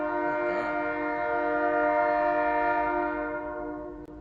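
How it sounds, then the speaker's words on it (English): A train horn blares close by in one long sustained blast that holds steady and then fades out over a few seconds, with a rail rumble underneath. "I hate this train."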